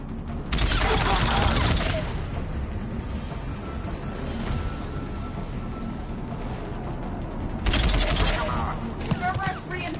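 Heavy automatic gunfire from a firefight in Mass Effect 3 roars in two loud sustained bursts, one early and one late, with a quieter rumbling exchange of shots filling the stretch between them.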